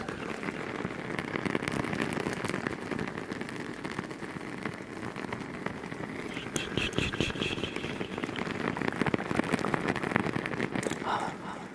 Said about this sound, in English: That's the sound of the candles.